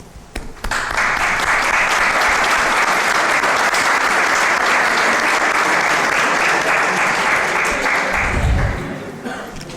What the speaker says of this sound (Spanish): Siempre pedimos un aplauso por vosotros.